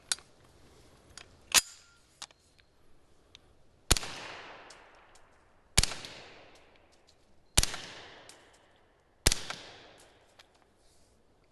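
Suppressed gunshots from a GHM9-SD Gen III fired into dirt, six sharp muffled cracks at irregular intervals of about two seconds, each with a short decaying tail, with faint clicks between them.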